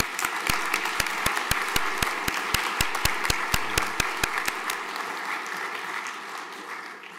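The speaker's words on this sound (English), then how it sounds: "Round of applause." A round of applause at a school morning chapel, a crowd clapping steadily with sharp individual claps standing out near the front, tapering slightly at the end.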